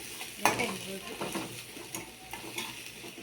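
Onions fry in a pan for a potato-based Telugu lunch dish, giving a soft steady sizzle with light stirring and an occasional scrape or clink of utensil on metal, close and fairly quiet, with no talking.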